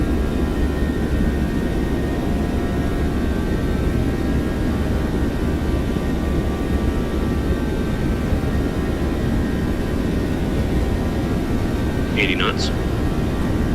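Boeing 737 jet rolling for takeoff in a flight simulator game, a steady loud engine roar and rumble throughout with a voice speaking briefly near the end.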